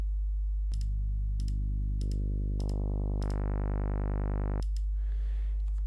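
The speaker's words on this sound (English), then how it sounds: "0 means the sine wave, and 1, 2, 3, 4, and 5 is saw 1, saw 2, up to saw 5" A Pure Data emulation of the Casio VZ-1 synthesizer steps through its waveforms, from sine to saw 1 up to saw 5, as a sustained tone whose timbre grows brighter and buzzier with each switch, ending in a soft fade.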